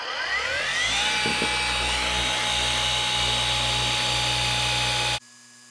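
A cordless polisher works on a van's dark paint, spinning up with a rising whine and then holding a loud, steady high-pitched drone before cutting off abruptly.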